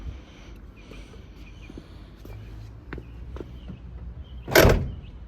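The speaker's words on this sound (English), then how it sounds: "Go ahead and close the door." A 1979 Chevrolet Camaro driver-side door shuts with a single solid thump near the end, after quiet footsteps and light handling noises.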